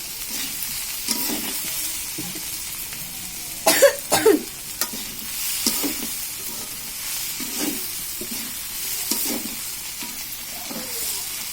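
Okra (bhindi) frying and being stirred in a pan, with a steady low sizzle, scattered scraping stirs and a couple of louder clatters near the middle, no talking.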